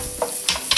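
Finely chopped garlic sizzles in hot oil in a kadai, with a soft steady fry and a few quick stirring scrapes close by, no voices.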